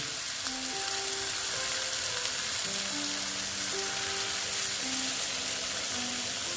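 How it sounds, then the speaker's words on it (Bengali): Boal fish frying with spices in a pan hisses with a dense, steady sizzle as water goes in, continuous and close throughout, with a faint tonal hum or music running underneath. "এখন আমি এখানে জল দিয়ে দিচ্ছি"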